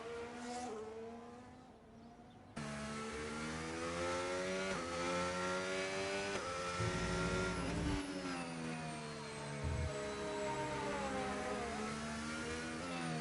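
A Formula 1 race car engine in the game F1 25 at the Abu Dhabi Grand Prix whines loud and steady, its harmonic pitch rising and falling through gear changes, mostly alone with a brief rougher burst midway.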